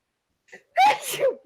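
A single sharp sneeze with a short breathy lead-in, close and fairly loud, then quiet.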